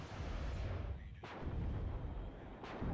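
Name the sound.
artillery fire in video game WARNO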